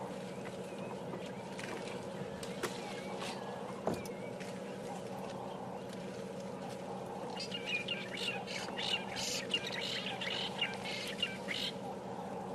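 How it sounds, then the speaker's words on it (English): Fork-tailed drongos give a robotic, metallic bird call on a morning safari drive, the faint chirps and buzzy notes coming in scattered bursts, picking up toward the end over a low vehicle rumble. "That robotic bird call that you can hear was from those birds that just flew off from there."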